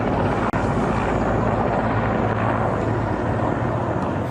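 An aircraft-type drone flies overhead near Moscow, a steady dense roaring drone that holds loud and unbroken throughout, broken only by a brief dropout near the start.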